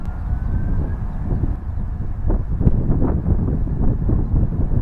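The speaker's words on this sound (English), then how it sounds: "this wind's just blowing it straight back in again" Strong wind blowing at a seaside port, buffeting the microphone with a loud, continuous low roar that rises and falls in gusts.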